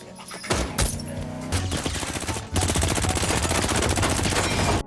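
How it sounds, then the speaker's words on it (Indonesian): Rapid bursts of automatic gunfire, a few shots at first then a sustained loud volley rattling continuously. "Ia ditembaki oleh Dominguez dan anak buahnya."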